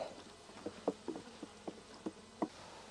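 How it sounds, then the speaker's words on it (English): Honey bees from a hive that failed to get its queen mated, heard as faint, close buzzing with a series of brief irregular wing bursts passing nearby, no voices. "All I see is a bunch of sad bees."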